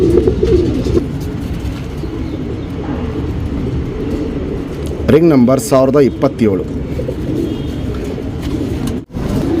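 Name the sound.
racing pigeon cooing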